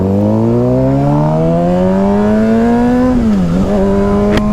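A Suzuki GSX-R600 sport motorcycle engine revs loudly and close, its pitch climbing steadily, dipping briefly, then holding high.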